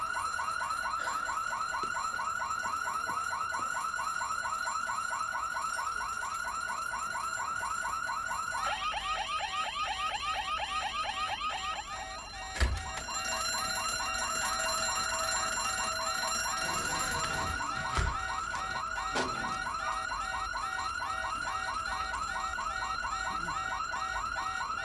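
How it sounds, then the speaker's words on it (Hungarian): A bank vault alarm rings continuously throughout, a loud steady electronic warble with a brief pitch shift partway, joined by a few thumps and bangs against the unbroken tone. "A páncélterem. Rohadt riasztó."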